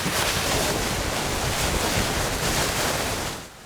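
Strong wind roars across the open sea during a sailboat race, a loud steady rush mixed with wave wash that fades at the end, with no voices.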